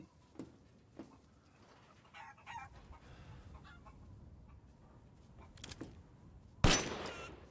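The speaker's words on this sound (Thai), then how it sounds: "มีเสียงไก่ว่ะ" Chickens cluck in short scattered bursts in the Resident Evil Village game world, moderately close over a low ambient bed, ending in a sudden loud burst like a gunshot.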